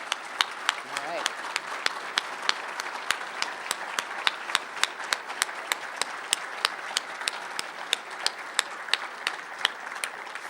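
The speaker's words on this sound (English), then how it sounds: "can please stand for a round of applause" An awards ceremony audience stands and claps steadily for the winners, with a dense wash of hands and sharper individual claps running through the whole stretch, close and loud.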